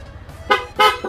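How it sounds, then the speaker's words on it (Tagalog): Two short, sharp blasts from a PIA horn fitted to a Honda Click scooter sound close by, followed by a brief third toot, over a low idling engine hum. "ang kinabit natin busina is PIA horn"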